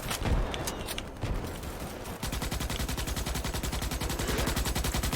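Rapid automatic gunfire in the video game Starship Troopers: Extermination, a loud, dense burst followed by a long, evenly pulsing stream of shots at close range.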